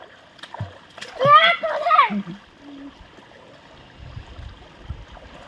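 A voice rises briefly, then soft splashing of river water follows near the end, low and close, at a village river near Khed in Konkan.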